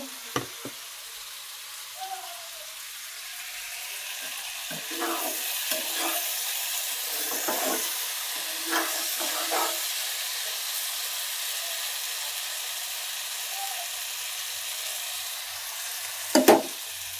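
A soft, steady sizzle of frying in a pan, with occasional light scrapes and clinks, and a sharper knock near the end.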